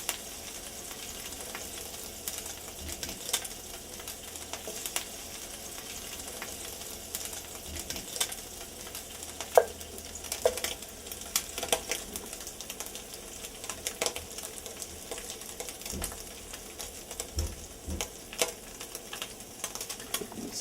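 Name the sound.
pancetta frying and sizzling in a pan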